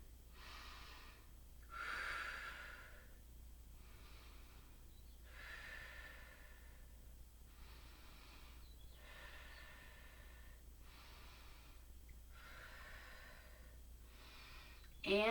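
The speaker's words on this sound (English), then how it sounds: "So let's see if we can take 5 deep breaths here." Slow, deep breathing during a yoga session, about five long inhale-exhale cycles with a soft rushing quality, steady and fairly close, with no talking over them.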